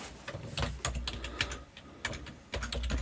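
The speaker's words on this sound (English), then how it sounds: "so let's do the typing thing here. Let's type." Steady typing on a computer keyboard during a lecture, a dense run of close, crisp key clicks with short pauses between bursts and no talk.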